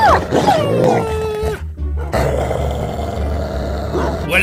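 A dog growls and snarls in Minecraft, a loud, close, rough rumble with a roar-like rise, briefly dropping out before the growling resumes.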